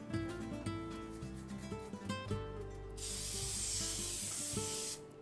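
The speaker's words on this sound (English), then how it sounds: "And spray it again." An aerosol can of cooking spray hisses onto a parchment round lining a cake pan, one sustained, loud burst of about two seconds that follows background music.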